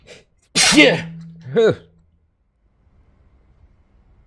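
A person sneezes loudly and close up, a sharp double burst with a brief voiced tail, followed by quiet; a short spoken word comes just before.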